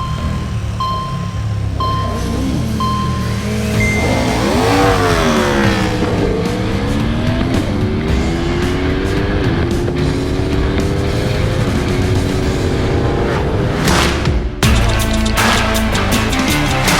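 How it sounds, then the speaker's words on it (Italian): Hypernaked motorcycles of about 1000 hp, including a KTM, Ducati and Aprilia, launch in a 400 m drag race, their engines roaring loud and continuous as revs climb and fall through gear changes, close by, with no talking. "Adesso KTM è andata bene di stacco, però si è alzata sull'anteriore"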